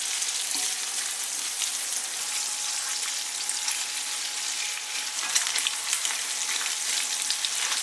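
Bacon sizzles steadily in a pan as its fat renders, a dense, even crackle with small pops, close and continuous, with no talking.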